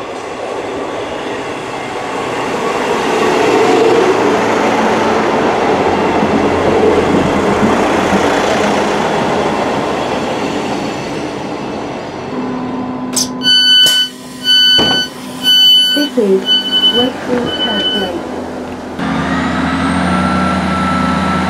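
A Northern passenger train rolls into Normanton station with a loud sustained rumble, then squealing brakes and metallic ringing tones as it slows, ending in a steady idling hum.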